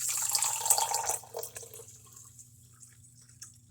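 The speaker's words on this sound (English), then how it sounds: "I'm now going to add the water to the Epsom salt." Water pours onto Epsom salt in a container, a bright splashing trickle that is loud at first, then fades to a soft settling drip over a steady low hum.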